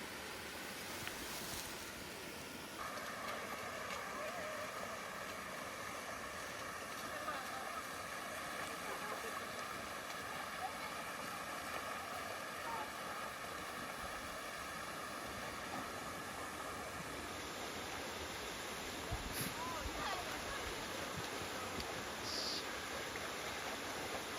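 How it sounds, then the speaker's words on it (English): Waterfall on the Karakariki Track, a steady broadband rush of falling water heard nearby and continuously, fairly faint overall, with a high steady tone joining partway through and no talk. "we made it to the waterfall"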